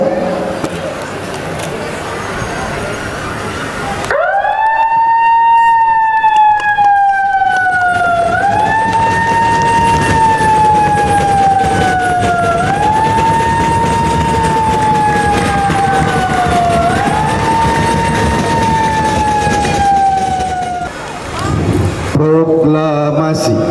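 A ceremonial siren marks the moment of proclamation at the 81st Indonesian Independence Day flag ceremony in Warungkiara district, a loud sustained wail that rises and falls in slow repeated swells for nearly twenty seconds over crowd murmur before cutting off.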